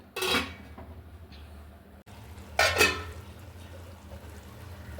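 Two sharp metallic clatters, a few seconds apart, as a lid is set on a cooking pot of jackfruit in a home kitchen. A soft background hum sits underneath and no one speaks.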